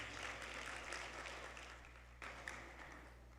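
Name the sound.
audience applauding performers at convention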